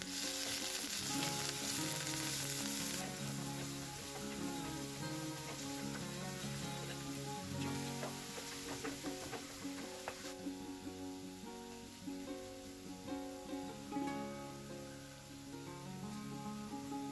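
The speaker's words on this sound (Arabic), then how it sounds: "نحط الزيت في المقلة، نزيد البصل، من بعد نزيد الثوم ونخليه يتقلى" Onion and garlic fry in oil in a pan, giving a faint, continuous sizzle with soft crackles and small stirring clatters throughout.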